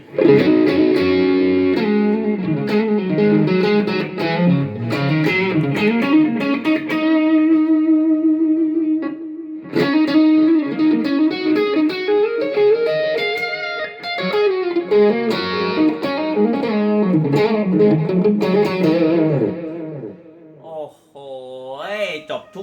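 A 2009 Fender American Deluxe Stratocaster HSS through a Boss GT-1 into a Marshall amp plays melodic lines and sustained chords, with distortion and a shimmering modulated tone, ending on a wobbly bend.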